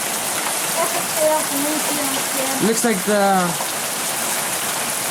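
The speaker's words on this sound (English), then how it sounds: "This is an epic storm." Heavy rain and hail from a thunderstorm roar steadily and loudly, with someone talking over the downpour.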